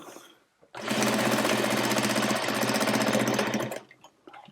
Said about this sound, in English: you're gonna sew the raw edges together